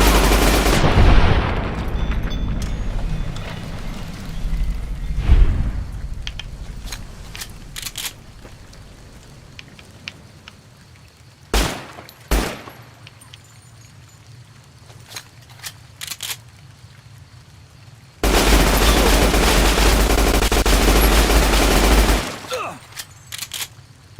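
Loud gunfire from a powerful gun in the video game Fallout: New Vegas, heavy bursts at the start and one long sustained burst near the end, with scattered single shots and quieter game ambience between.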